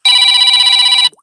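A telephone rings loud and close in one sustained electronic burst of about a second, then cuts off into silence.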